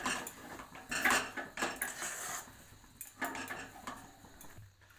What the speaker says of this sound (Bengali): এইভাবে নেড়ে যেতে হবে